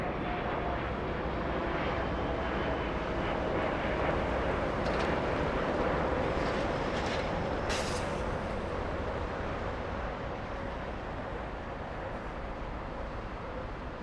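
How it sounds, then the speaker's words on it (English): A Delta airliner on approach to land at Los Angeles airport, arriving from Atlanta, gives a steady, broad jet roar throughout. It is moderately distant, with a faint rising engine tone and some wind noise. "That's Delta 501 flying in from Atlanta, Georgia."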